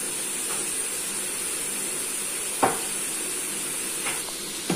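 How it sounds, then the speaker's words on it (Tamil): Onions sauté in a pan for dal makhani, giving a constant gentle hiss of sizzling with a few sharp clicks from a utensil stirring. "இப்போ ஆனியன் நல்லா வதங்கியாச்சு."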